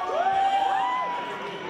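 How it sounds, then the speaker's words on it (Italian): A lively crowd cheering and shouting, with high excited voices overlapping into a continuous, fairly close roar. "accolto da applausi, cori e grida"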